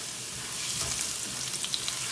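Cumin seeds and dry chili sizzle in hot oil for an emperor fish curry, a steady close hiss of frying with faint crackles throughout.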